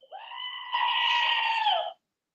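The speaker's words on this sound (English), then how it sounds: "Morning Screaming Goat" A screaming goat sound effect plays during a live yarn sale: one shrill, human-like goat scream that starts short, swells into a sustained high wail, then stops dead into silence.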